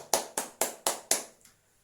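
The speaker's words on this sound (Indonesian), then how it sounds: "Tepuk tangan untuk kita semua." Five sharp, evenly spaced claps close together in a classroom, then the sound fades to quiet.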